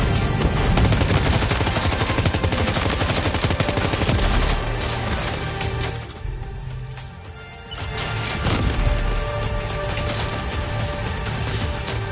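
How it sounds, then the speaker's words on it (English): Continuous video game gunfire, dense rapid shots and bursts, loud and close, with a brief lull before the firing picks up again. "Opening fire."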